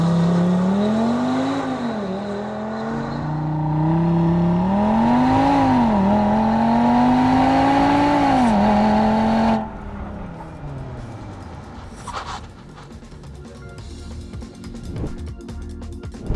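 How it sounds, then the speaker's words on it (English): A 2021 Audi RSQ3 accelerates hard in a 0 to 100 run, its engine note climbing steadily through several gear changes for about ten seconds, loud and close, before fading into lower road and wind noise. "First we'll do the 0 to 100, and then the braking test"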